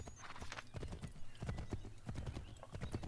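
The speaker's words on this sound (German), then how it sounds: "Unser Pferdchen wieder hier." Horse hooves clip-clop in steady rapid rhythm in the video game Assassin's Creed 3, a galloping mount heard close and continuous, with a brief neigh mixed in.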